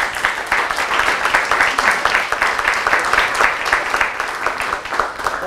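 Lecture audience at a university poetry reading event breaking into dense, sustained applause, loud and continuous with a lively rippling texture.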